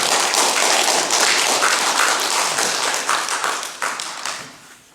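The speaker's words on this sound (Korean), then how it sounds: "우리 함께 박수로 맞이해 주시기 바랍니다." A church congregation claps loudly and densely to welcome a missionary, close and sustained applause that tapers off over the last second.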